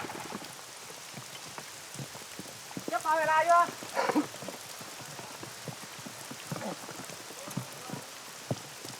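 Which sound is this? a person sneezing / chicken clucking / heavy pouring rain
heavy pouring rain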